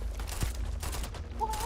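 A turret in a space-themed video game fires a rapid, sustained fusillade of gunfire, dense bursts running throughout with a brief whine near the end.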